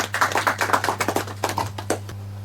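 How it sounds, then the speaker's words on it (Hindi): A small audience at a junior quiz show gives a brief round of clapping, individual claps distinct and loosely rhythmic, thinning out toward the end over a steady electrical hum. "एक बार जोरदार ताली हो जाए दोनों के लिए ही।"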